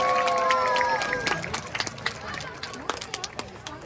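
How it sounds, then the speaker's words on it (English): A crowd at a sea lion show at a safari park cheers and claps for a sea lion named Bounty, a burst of applause and whistles that fades into scattered claps while a presenter talks. "give Bounty one last cheer to say well done"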